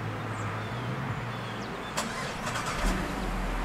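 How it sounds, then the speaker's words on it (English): A 2009 Buick Enclave CXL AWD starts by remote start: a low engine idle hums steadily, then a brief cranking burst catches midway and settles into a slightly louder rumble. "if you would like to utilize the remote start, you just make sure that the vehicle is in the lock position and you just hit this button right here"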